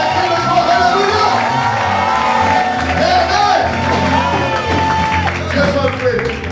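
A church congregation at a French-speaking prayer service cheers and shouts in loud acclamation of the Lord, with raised voices, whoops and scattered clapping blending into a continuous crowd roar.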